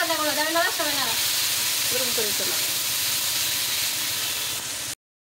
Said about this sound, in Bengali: তো দেখো এখন পেঁয়াজ আর লঙ্কা আর আলু ভেজে নিচ্ছিল ভালো করে।